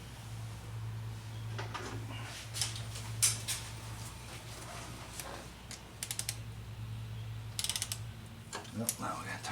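Ratchet and socket clicking on the head bolts of a Chevy Silverado 5.3L engine during a head job, with short bursts of ratcheting clicks over a steady low hum.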